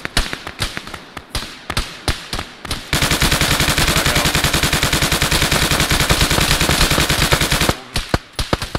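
Machine gun fire in a multiplayer video game firefight: a few scattered single shots, then a long, loud, unbroken rapid burst of about five seconds, followed by more separate shots close by.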